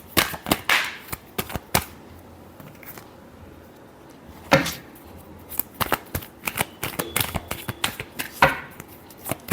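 Tarot cards shuffled by hand, bursts of crisp riffling and slapping in uneven clusters, close and fairly loud with quiet gaps between.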